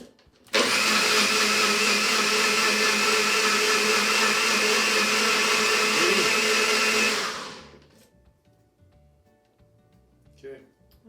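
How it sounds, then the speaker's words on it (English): A kitchen blender runs loud and steady for about seven seconds, processing ingredients for plant-based zucchini steaks until the mixture turns smooth and creamy, then cuts off, leaving a quiet room with faint movement. "Place all ingredients in blender, process until mixture is smooth and creamy"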